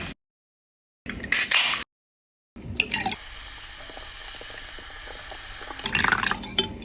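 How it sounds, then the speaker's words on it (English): Sparkling water poured into homemade Jamaican ginger beer, with short bursts of liquid splashing and fizzing separated by silent gaps, then a longer steady pour that swells again at the end. "Gonna add some sparkling water."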